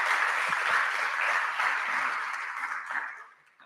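Audience applause at a dbt tech meetup in Sydney, a broad steady wash of clapping from a crowd that holds even and then fades away near the end.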